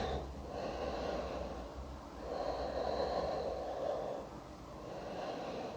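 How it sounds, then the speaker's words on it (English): Slow deep breaths during a yoga hip-opening session, soft inhales and exhales in long waves, close and quiet, with no talking. "And breathing nice and deep."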